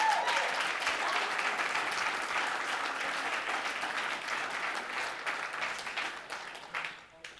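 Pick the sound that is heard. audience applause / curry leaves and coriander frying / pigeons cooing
audience applause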